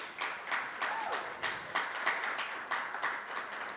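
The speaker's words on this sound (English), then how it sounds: "Can you please also give a warm round of applause for the tech team that's doing overtime work" Scattered applause from a modest conference audience honoring the tech team, light and fairly quiet, with individual claps audible in an uneven rhythm for a few seconds.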